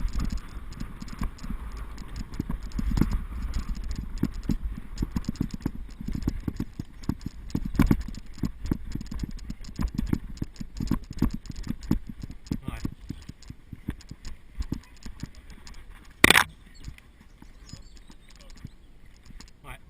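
Horses' hooves clip-clop on grassy ground at an endurance riding event, a loose patter of hoofbeats under people chatting in French, with a sharp knock late on.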